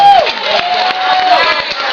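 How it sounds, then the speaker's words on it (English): Stadium crowd cheering and applauding a comedian at the end of a show, a loud roaring wash of voices and claps with a whoop at the start. "Give her a big round of applause."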